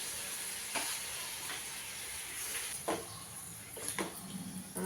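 Chopped tomatoes fry in peanut oil, giving a steady close sizzle broken by a few sharp clicks and scrapes from stirring.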